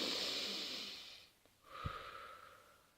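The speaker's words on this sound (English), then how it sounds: "there is 30 deep belly breaths" Deep belly breathing in the Wim Hof method: a long, close, airy inhale, a brief pause, then a forceful exhale with a faint snort, no talk.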